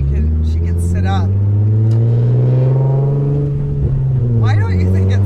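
A Nissan 350Z engine rising and falling through a rev, its deep droning exhaust note close and loud, with voices talking over it.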